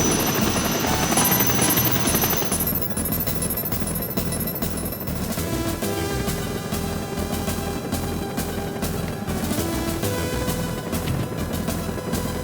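A military helicopter in a Cold War stealth video game thrums loudly and steadily for the whole stretch, its rotor chopping in a continuous beat that stays close and unbroken.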